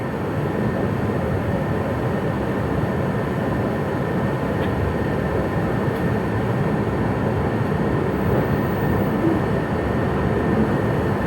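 A KRL commuter train pulls into Mangkuo station on the Solo–Jogja line, its steady low rumble and rolling rail noise filling the platform continuously at close range with no pauses.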